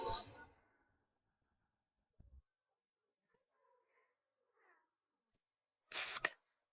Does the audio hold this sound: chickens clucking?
no